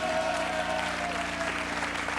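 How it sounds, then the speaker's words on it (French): Steady, dense applause from a large audience at a comedy improvisation show, continuous and fairly loud throughout with a faint hum underneath. "Vous pouvez applaudir Philippe et Benjamin"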